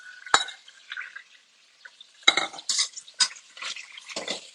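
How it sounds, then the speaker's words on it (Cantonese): Oxtail frying in a wok after onions, heard as bursts of scraping and clattering from a spatula stirring against the metal, separated by short quiet gaps, with faint sizzling underneath. "要煎呢個牛尾"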